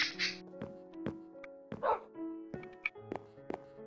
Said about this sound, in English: I'll put this dog over here for the second player.